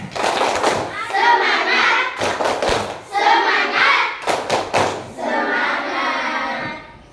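A group of children performs a tepuk semangat spirit clap, with bursts of rapid, sharp claps in a fixed rhythm alternating with loud shouted chanting, repeated in three rounds.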